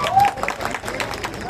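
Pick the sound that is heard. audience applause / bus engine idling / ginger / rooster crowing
audience applause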